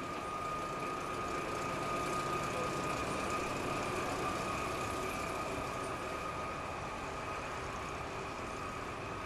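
A small DB class 332 diesel shunting locomotive idles steadily at the Bavarian Railway Museum, with a constant droning rumble and whine, unbroken for the whole stretch.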